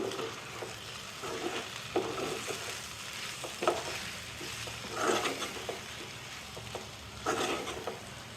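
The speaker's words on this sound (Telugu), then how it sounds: "ఇప్పుడు ఇదంతా బాగా మిక్స్ చేసేసుకుందాం" Aloo kurma masala being stirred in a pan, a steady frying sizzle broken by repeated scraping strokes of a spoon, close and fairly loud with no voices.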